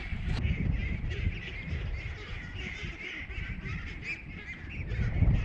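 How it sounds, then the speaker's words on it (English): Flock of panicking ducks on a homestead keeping chickens and ducks, quacking and honking loudly and continuously all together, a dense overlapping chorus that swells near the end. "I have never seen ducks panic that bad."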